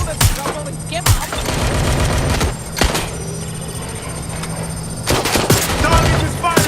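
Gunfire in the video game Watch Dogs Legion, with repeated sharp gunshot bursts cracking at irregular intervals over a steady game background hum and a low tone.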